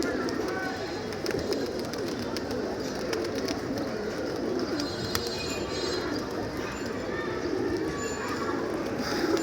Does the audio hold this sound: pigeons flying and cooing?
yes